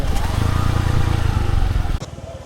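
A motorcycle loaded with four riders climbs a steep road, its engine thrumming loudly and steadily up close before easing off near the end.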